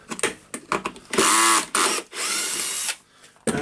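Power driver unscrewing housing screws on a Hilti TE1000 demolition hammer during disassembly, close and loud, with short whirring bursts followed by longer sustained spinning runs and a final brief burst.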